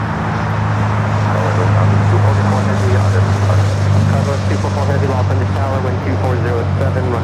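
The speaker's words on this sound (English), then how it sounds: "We have an American Dreamliner now rolling. It's taken off to JFK Flight 32." An American Airlines Boeing 787 Dreamliner rolling for takeoff at LAX, a loud, steady low engine roar throughout with someone talking over it.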